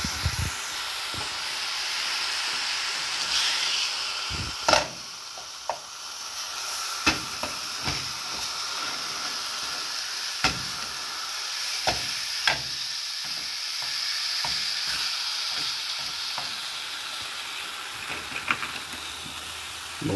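Cooked ground beef fries dry in a pan with no oil, hissing and steaming steadily while scattered sharp pops and scrapes from stirring break through over about twenty seconds, with no talk.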